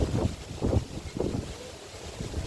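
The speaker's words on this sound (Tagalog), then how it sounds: "Ang hangin na malakas" Strong wind buffets the microphone in heavy, rumbling gusts at an outdoor town plaza, with a constant rushing noise underneath.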